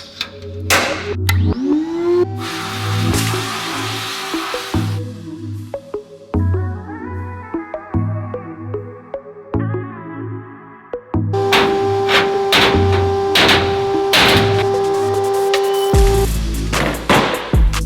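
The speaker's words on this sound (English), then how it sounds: "I'm gonna go ahead and sandblast this and try to clean it as best as possible" An engine valve cover is sandblasted in loud bursts of hissing air blast, interspersed with compressor hum and machine tones, starting and stopping several times.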